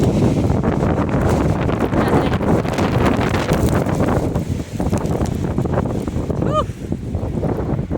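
Strong outdoor wind buffets the microphone continuously, a loud rumbling roar with rustling, while people speak faintly underneath.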